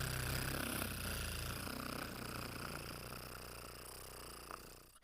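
A person imitates a cat's purr, a steady low rumbling drone that holds for about five seconds, close and moderately loud, with no other talk over it.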